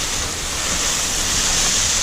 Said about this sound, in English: I'm just going to lightly hit it with some water.